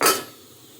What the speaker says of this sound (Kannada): ಮುಚ್ಚಿಡುವ ಆಯಿತಾ